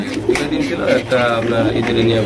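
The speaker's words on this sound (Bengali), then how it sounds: "এখানে রয়েছে একজোড়া ইন্ডিয়ান নটন কবুতর মাশাআল্লাহ অনেক সুন্দর" A pair of Indian Norton pigeons, one sitting on eggs in a breeding farm, coo in low rolling bursts close by while someone talks over them.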